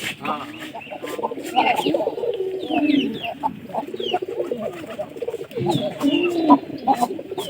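Several domestic pigeons coo in soft, repeated rolling calls close by, mixed with rustling and brief flutters while a person talks throughout.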